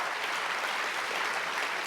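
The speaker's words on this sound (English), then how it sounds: "Please give a big round of applause to the panel" Audience applauds a panel at a conference event, steady dense clapping from a crowd filling the whole short stretch at moderate distance.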